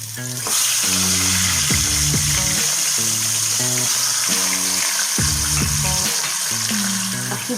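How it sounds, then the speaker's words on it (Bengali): A salted, turmeric-coated fish head drops into hot refined oil in a pan and sizzles loudly and continuously, a steady close frying crackle with a tonal hum running beneath it. "এবার আমি নুন হলুদ মাখানো মাছের মাথাটা দিয়ে দিলাম"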